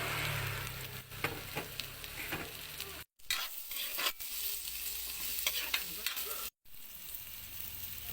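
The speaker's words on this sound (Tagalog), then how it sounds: "maggisa tayo ng luya." Ginger sautéing in a pan for a pink salmon head dish, a steady loud sizzle with stirring scrapes, broken by two brief silent gaps.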